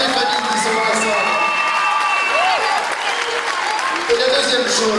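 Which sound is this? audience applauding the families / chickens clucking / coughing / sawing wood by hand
audience applauding the families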